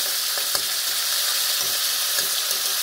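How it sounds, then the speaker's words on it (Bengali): Bhola fish pieces fry in a pan, giving a loud, steady, close sizzle of hot oil that runs without a break, with a few faint clicks of handling and no voices. "দু পিঠ একটু লাল লাল করে ভাজবে।"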